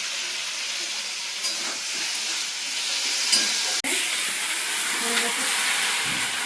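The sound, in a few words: water added to hot pan with bay leaves, sizzling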